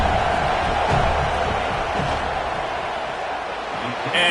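Steady roar of a stadium crowd as a kicker lines up a fourth-down football field goal attempt, a dense, continuous wall of voices with a few louder swells, heard up close throughout.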